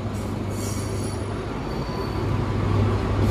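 The KA Malabar passenger train at Kertosono station rumbles loudly nearby, with a steady roar of rolling carriages and wheels, faint squeal on top and a swell in intensity toward the end.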